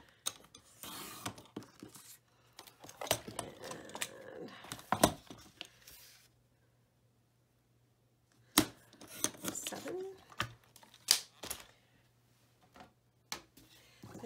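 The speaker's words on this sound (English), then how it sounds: "So we're just gonna cut this." Scissors snip through scrap paper for a paper-craft gift box, with bursts of close crisp cutting and rustling handling noise separated by a quiet pause.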